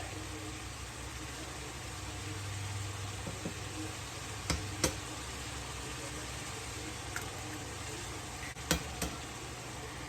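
Eggs hit a hot skillet of chorizo turned down to medium, giving a soft continuous sizzle with a few sharp clicks and taps, under a low background hum.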